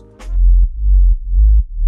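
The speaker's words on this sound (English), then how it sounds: "I'm using a very basic sine wave here" A clean, deep sine sub bass plays several sustained low notes in sequence, smooth and round with soft gaps between them, loud and close.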